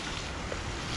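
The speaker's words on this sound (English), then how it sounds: "it's a bit windy in here as well, so the wind's not doing us any favours." Wind blows and buffets steadily in a broad rushing roar with no break and no talking, outdoors at a day camp cooking on a Bushbox XL stove.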